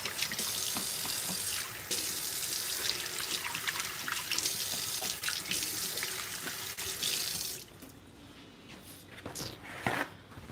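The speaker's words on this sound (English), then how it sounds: "I'm going to go ahead and wash my hands." Hands are washed under a steady, close kitchen tap stream while cooking, with running water hissing continuously for about seven seconds before shutting off, followed by faint handling sounds.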